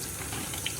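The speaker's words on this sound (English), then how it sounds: "The water flows in from the cold tap" Water runs steadily from a cold tap while brewing a simple brown ale, a constant, fairly quiet hiss with no break and no talking.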